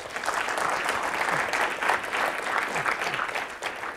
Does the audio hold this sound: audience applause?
yes